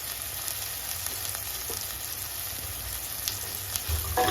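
Tomato sautéing in a pan with a pinch of asafoetida and turmeric added, giving a steady close sizzle with a few faint clicks and a louder scrape near the end.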